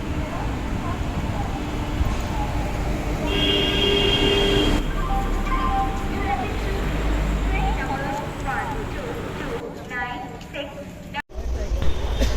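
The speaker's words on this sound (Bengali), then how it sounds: "আর আমরা যে ট্রেনে যাব সেই ট্রেন এই মুহূর্তে স্টেশনে ঢুকে পড়েছে" A passenger train rolls into a station platform with a low rumble, clattering wheels and metallic squeals, while people talk nearby.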